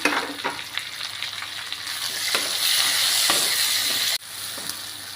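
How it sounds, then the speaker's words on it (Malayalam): Chopped tomato frying with onions in a pan for Kerala-style chicken curry, a steady close sizzle with intermittent stirring scrapes and a brief clatter near the end, no speech. "ഇതിനകത്തോട്ട് ഇനി നമ്മൾ കട്ട് ചെയ്ത് വെച്ചിരിക്കുന്ന ഒരു തക്കാളിയും കൂടി ചേർത്ത് കൊടുക്കുകയാണ് ഇതും കൂടി നന്നായിട്ടൊന്ന് കുക്കാവണേ"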